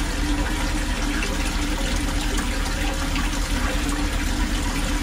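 Water rushes steadily through a manhole in a drain flooded because of tree roots, a dense, even roar that continues without a break and fills the space, with no speech.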